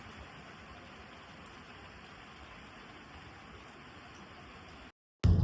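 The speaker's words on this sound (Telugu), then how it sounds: "మస్తు వర్షం పడుతుంది మాకు" Heavy rain pours outside on a cold day: a steady, even hiss of rainfall that runs unbroken for about five seconds, then cuts to silence before a sudden loud thump.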